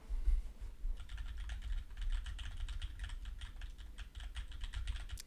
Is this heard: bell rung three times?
no